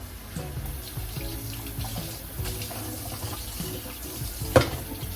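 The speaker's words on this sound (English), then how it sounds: "I'll wash my hands off." Tap water runs steadily into a kitchen sink during hand washing between pound cake baking steps, a continuous close splashing stream with a brief knock near the end and no talking.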